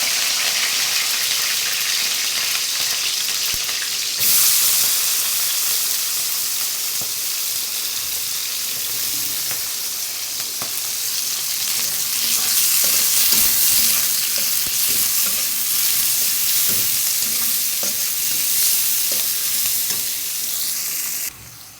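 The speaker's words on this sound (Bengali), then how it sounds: "কড়াইয়ে তেল গরম করে নিয়েছি, এখন এর মধ্যে দিয়ে দেব পেঁয়াজ, কাঁচামরিচ আর রসুন কুচি।" Onion, green chili and chopped garlic hit hot oil in a wok, setting off a loud, steady sizzle that swells after a few seconds and carries on with stirring scrapes, with no voices.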